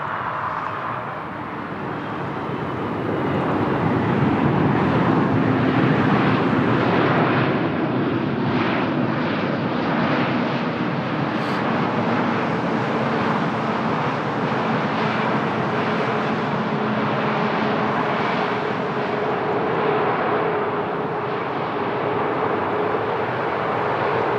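A TAP Portugal airliner at Lisbon Airport, a loud sustained jet engine roar with a broad rumbling wash and faint tonal whine, holding steady throughout.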